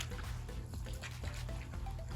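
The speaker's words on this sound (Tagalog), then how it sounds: "Humihigop na po yan ng tubig sa ilalim." A homemade DIY pool vacuum sucks water up from the bottom of a pool, giving a faint, continuous low rumbling gurgle with a steady watery hiss throughout.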